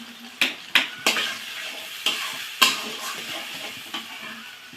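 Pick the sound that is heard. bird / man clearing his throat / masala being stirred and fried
masala being stirred and fried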